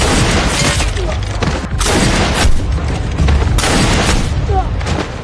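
Gunfire in a battle scene from the war sniper film Ice Sniper, with loud bursts and booms repeating over a dense, noisy battlefield mix and voices.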